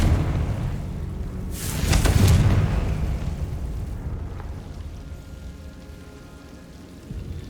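A Confringo fire spell explodes in Hogwarts Legacy, a loud bursting whoosh swelling into a deep rumbling boom about two seconds in, then fading into a low crackling tail and quiet ambience, with no talking.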